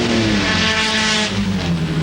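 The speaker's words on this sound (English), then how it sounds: "Terrific variation of cars here, AJ." Race cars in a 1995 Indycarnival Group E production race roar loudly and close by, their engines droning and shifting in pitch as they pass, with no speech.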